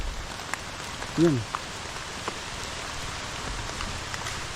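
Steady rain falls on a rural homestead with big trees, a continuous hiss throughout, with one brief voice heard early.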